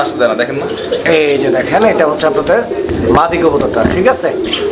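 A pair of fancy pigeons coos up close, soft throaty rolling calls repeating throughout, heard under and between a man's speech.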